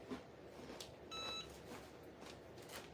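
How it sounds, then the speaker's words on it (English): A single electronic beep from a heat press or curing appliance used for DIY DTF inkjet printer shirt transfers, sounding as a short steady tone mid-clip over a faint room background with no talk. "I heard that beep."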